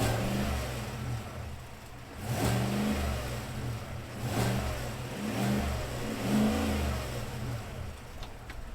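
2024 Cadillac Escalade luxury SUV engine revving, a close, throaty V8-style drone rising and falling in three or four repeated surges over a steady idle, with no talking.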